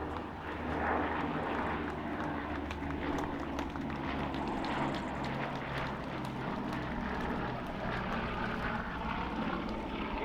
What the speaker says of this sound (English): But last pass now from John Romain in the venerable Blenheim